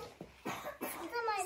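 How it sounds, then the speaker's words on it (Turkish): A young child with a cold and sore throat coughs several times in short, close bursts, with some childlike vocal sounds mixed in. "Öksürüyor ve burnu akıyor."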